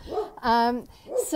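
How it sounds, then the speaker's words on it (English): Dogs barking in a home, a sharp bark with a whine-like tone between bursts of speech, heard fairly close and loud while a person talks. "Sorry about my dogs."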